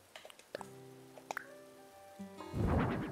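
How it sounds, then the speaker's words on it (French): Sparse drips and plops fall one by one with light chiming tones, then a steady rushing hiss of rainfall in Animal Crossing: New Horizons swells in. "Il pleut"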